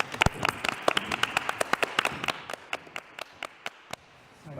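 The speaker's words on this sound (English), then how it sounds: "We give her a round of applause." A small audience at a fashion panel gives sparse applause for a runway model, a few distinct sharp claps in an uneven rhythm, fairly quiet and close, thinning out until the room falls nearly silent.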